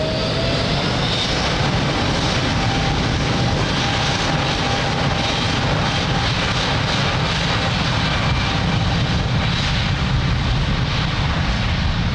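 An airliner on takeoff roll from runway 02 at Lisbon Airport, a loud, steady, broadband jet engine roar with a whining tone, sustained at full power and close by.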